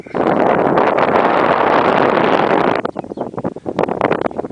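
Strong wind in the Arctic Circle, Alaska, buffets the microphone in a loud, roaring rush that cuts off abruptly, followed by gusty, fluttering bursts.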